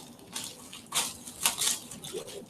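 Plastic packaging around a yoga mat crinkles and rustles in a few short bursts as it is unwrapped up close, with light handling noise between them.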